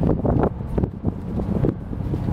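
Gusty wind buffets the microphone in loud, uneven low rumbling bursts while a boat glides in neutral during docking, with no voices heard.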